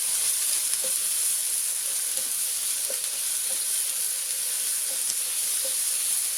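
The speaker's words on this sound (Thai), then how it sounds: "ผัดให้เข้ากันค่ะ" Chicken breast stir-fries with pounded chili and garlic in a wok, a steady close hissing sizzle with faint periodic scrapes of a spatula, even and unbroken throughout, no talk.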